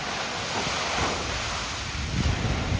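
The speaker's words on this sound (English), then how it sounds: "I got the perfect timing for you to see another explosion of the water volcano" On the Lisbon riverside, a water volcano fountain erupts in a steady, loud rushing roar of spraying water, mixed with wind buffeting the microphone and swelling slightly toward the end.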